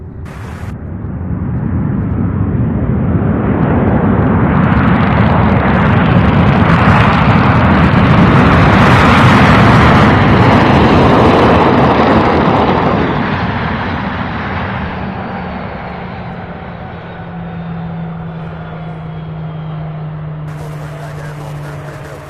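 A cargo jet takes off from the runway at UPS Worldport in Louisville: a loud, roaring jet engine swells to a broad peak midway and then fades into a descending whine as the aircraft departs.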